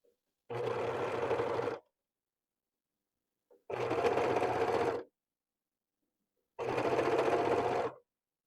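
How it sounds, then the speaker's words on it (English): A sewing machine stitches a sweatshirt sleeve in three separate runs of about a second and a half each, a close whirring buzz with silent pauses between, no voices. "let's start sewing on this side and sew it this way"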